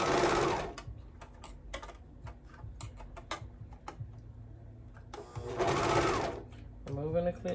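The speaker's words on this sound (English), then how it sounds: "making sure my pants and waistband are all matched up, and then we're going to serge them together." Serger overlock machine stitching pant legs to a waistband on baby bell-bottoms, running in two loud sustained whirring bursts at the start and near the end, with quieter clicking and handling noises between.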